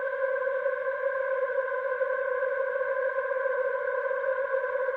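A Eurorack modular synth plays a generative ambient patch drenched in heavy reverb, holding a smooth, unbroken drone of layered tones for several seconds with no voices.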